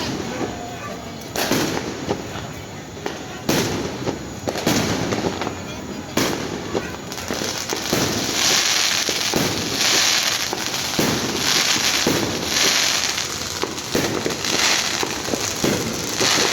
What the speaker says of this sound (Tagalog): Close-up look of the fireworks